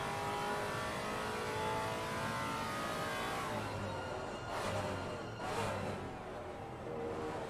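Race cars overtake on the straight at Zolder in Assetto Corsa Competizione, their engines roaring steadily and fairly loud, with a couple of passing surges as the sound shifts late on.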